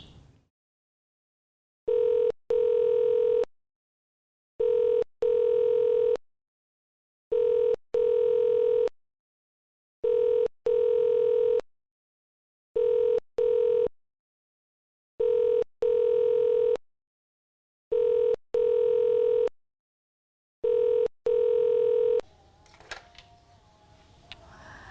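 Repeated telephone ring tone in a domestic drama scene, eight evenly spaced steady bursts of about a second each separated by silence, clear and alone, ending in faint room noise.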